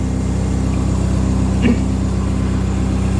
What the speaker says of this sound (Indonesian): Kita jadi RPM engine low idle 955.